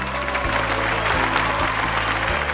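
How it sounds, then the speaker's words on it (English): A crowd applauds steadily for two young readers, Jimmy and Zoe, a dense, even wash of clapping that lasts the whole stretch, with a low droning tone underneath. "Can we please give them a big round of applause?"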